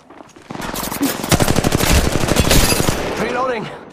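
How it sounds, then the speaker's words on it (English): Weapons fire rapidly in Apex Legends Mobile, a loud, close stream of automatic shots in quick repeated bursts lasting several seconds. "Opening fire."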